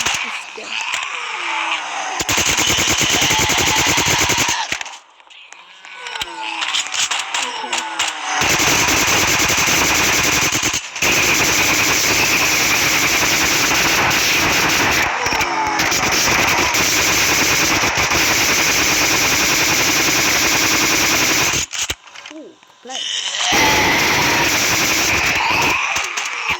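Rapid, loud automatic machine gun fire in the zombie shooter game Zombie Uprising, sustained bursts broken by a few short pauses, dominating the whole stretch.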